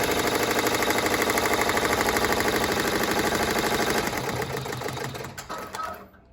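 An embroidery machine sewing chenille tack-down stitches on the back of a letterman jacket, with a loud, rapid, even mechanical stitching rhythm up close that slows and stops near the end.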